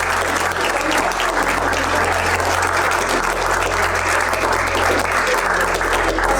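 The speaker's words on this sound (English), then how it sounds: "I got a standing ovation" A conference audience at a law summit gives a loud, sustained standing ovation, thick continuous clapping from a large crowd holding a steady level throughout, with a low hum underneath.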